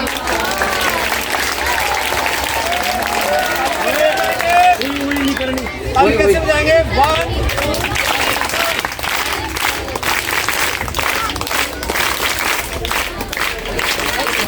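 Students and staff clap for team B at a school Hindi quiz competition, steady dense applause filling the room for the whole stretch, with a voice speaking briefly over the clapping.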